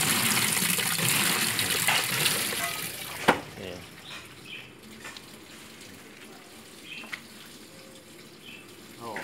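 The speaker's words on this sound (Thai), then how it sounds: "ตอนนี้เปิดเครื่องนะฮะยังไม่ออนเครื่องเลยน้ำไหลเข้าแล้วนะครับ" Water gushes strongly into the tub of an LG WF-T801TD top-load washing machine that has a fault where water keeps filling, then the flow softens to a quieter trickle while someone talks.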